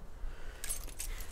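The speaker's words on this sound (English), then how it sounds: "I'm sure you guys have this as well, but car keys." Car keys jangle briefly up close, a short metallic rattle of a couple of light clinks over quiet background noise.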